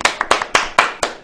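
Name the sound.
audience clapping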